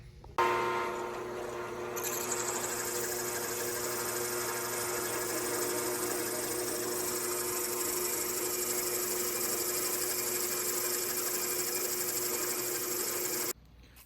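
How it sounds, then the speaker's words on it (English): A power drill drills holes in metal for a truck winch mount, whirring in one steady, loud, close run for about eleven seconds, then cutting off abruptly. "mark my center spot, then drill some holes and get going with that"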